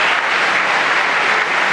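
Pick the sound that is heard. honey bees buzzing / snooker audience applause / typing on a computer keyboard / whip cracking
snooker audience applause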